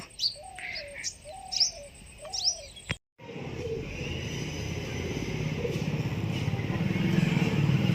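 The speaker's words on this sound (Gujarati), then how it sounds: "કબૂતરો અત્યારે ચણી રહ્યા છે" Pigeons in the rainy season giving three or four short repeated cooing calls close by, then a sudden cut to a steady rumbling outdoor background with faint distant bird sounds.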